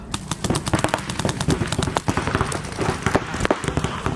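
Paintball markers fire in rapid, overlapping volleys during a paintball drill, a dense stream of sharp pops and cracks from several guns at once, near and loud without pause.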